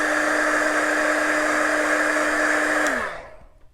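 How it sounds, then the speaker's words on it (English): A heat gun drying paint on a craft flower garland blows with a loud, steady whirring roar up close, then switches off and winds down to quiet near the end. "I'm going to use my heat gun to dry this real quick."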